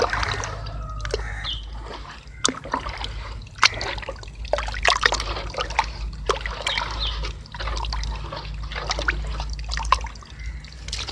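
Cow dung is stirred into water to make a liquid natural farm fertilizer, giving a continuous sloshing trickle with repeated splashy clicks over a steady low rumble.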